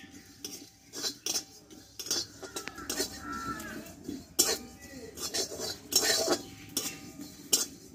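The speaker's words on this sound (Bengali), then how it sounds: "এবার এই কড়াই 1 চামচ মতো গোটা জিরা আমি একটু ভেজে নেব।" Whole cumin seeds dry-roasting in a dry wok (kadai) while a spatula scrapes and clinks against the metal in irregular, close strokes, with faint rustling between them.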